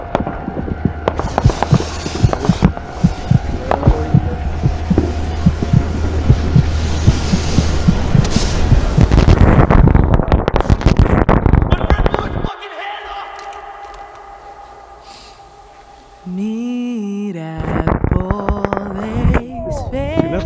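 Fourth of July fireworks crackle and pop densely for several seconds, then fade, followed by a different tonal stretch; people talk loudly throughout.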